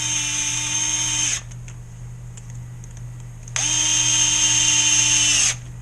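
An electric hex driver spins screws tight in two loud, close bursts, each a high steady whine that winds down, with a quiet gap between them.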